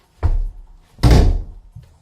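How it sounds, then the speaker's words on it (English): A door is kicked shut in a furniture-painting workspace: a soft thump, then a loud heavy slam with a short rattling decay, close by with no talk. "Kick the door shut there."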